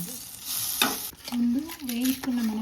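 A single tomato frying in a pan for minapappu roti pachadi, a close sizzle with scraping stirs and a sharp clatter early on, while a high whistle-like tone wavers through the middle.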